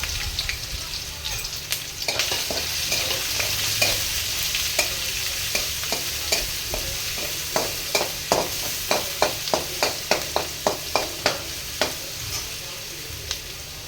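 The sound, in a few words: ginger garlic paste and green chillies sizzling in hot oil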